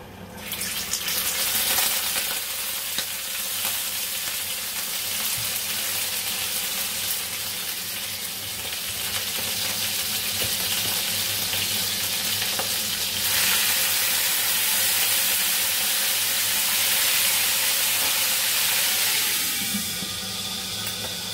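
Hot cooking oil sizzling and spattering in a pan while adobo cooks, a loud steady hiss with crackling pops that swells louder partway through and continues without talk.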